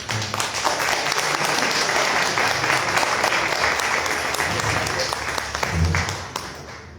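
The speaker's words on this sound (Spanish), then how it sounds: "Un aplauso, por favor." Audience applause at an academic history conference panel in Mexico, a steady dense round of clapping lasting several seconds that fades slightly toward the end, with a few voices faintly underneath.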